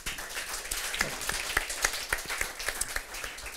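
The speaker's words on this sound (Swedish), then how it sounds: "Jag tycker ni ska tacka dem med en varm applåd." Warm applause for a panel at a breakfast panel discussion: a small audience claps with distinct individual hand claps, a steady, moderately close round lasting several seconds with no talk.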